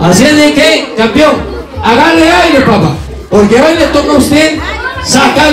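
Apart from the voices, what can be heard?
No distinct noise like a dog, phone or traffic.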